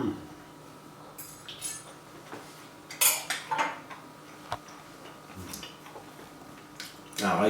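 Cutlery scraping and clinking on a plate while Guinness chicken is served, a few sparse, light metallic taps and clicks spread over a quiet kitchen background.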